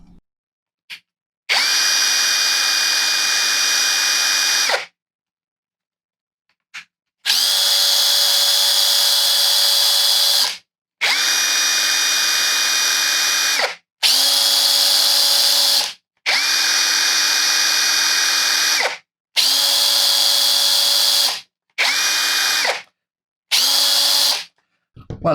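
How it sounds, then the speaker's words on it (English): Ryobi impact drivers, one brushed and one brushless, run in a series of loud, close bursts of several seconds each with short gaps of silence between them, giving a steady whirring hammer buzz. "Let's compare the impact drivers."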